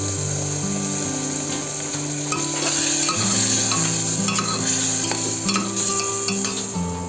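Beef pieces are added to frying spice masala in a pressure cooker, with a steady sizzle, scraping and stirring, and metallic clatter throughout, over a continuous hum of background noise.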